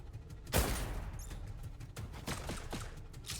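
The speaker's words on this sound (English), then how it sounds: "That's an auto cannon turret, not a machine gun turret." An auto cannon turret firing in the game Lost Skies, one loud heavy blast followed by several spaced, fainter booming shots amid game noise.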